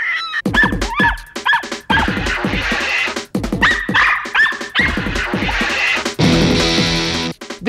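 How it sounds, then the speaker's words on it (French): Border Terrier dogs bark and yip in quick, excited bursts, loud and close, with whiny, high-pitched yelps in between. "Alors maintenant, nous allons faire la fête avec les chiens de Sandrine"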